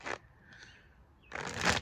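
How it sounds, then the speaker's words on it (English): Tarot cards are shuffled in two short, crisp riffling bursts, one at the start and a longer one at the end, with a quiet pause between. "I got asked to shuffle and try again."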